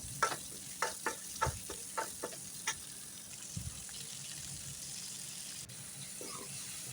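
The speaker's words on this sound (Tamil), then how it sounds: "அது ஒரு பத்து நிமிஷம் அப்படியே எண்ணெயில் நல்லா வதங்கட்டும்" Jackfruit seeds and eggplant sauté in oil for a kuzhambu with a soft, low sizzle. A run of spoon taps and stirring knocks comes in the first half, then only the quiet frying hiss continues.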